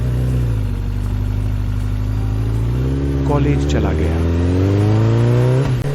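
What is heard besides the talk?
motorbike riding off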